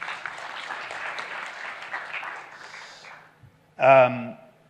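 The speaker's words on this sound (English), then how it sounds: "Let's give Brandon a warm round of applause, everybody." Warm applause from an audience at an investment pitch event fills the first three seconds steadily, then fades, and a voice speaks briefly near the end.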